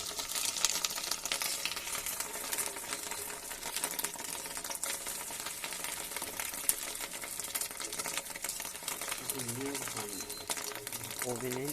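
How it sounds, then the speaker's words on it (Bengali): Fish roe fritters dropped one by one into hot oil in a wok, giving a steady, dense sizzle with faint crackling throughout, and a voice briefly audible near the end. "তারপর একটু একটা করে মাছের ডিমের বড়াগুলো ছেড়ে দিলাম।"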